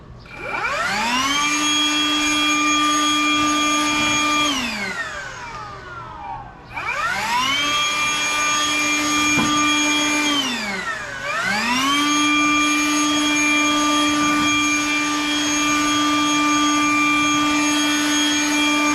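Ryobi 18V jet fan blower blowing dust and debris off tiles, a loud steady whining roar that spools up, dips and winds back up in three long bursts, with no talking.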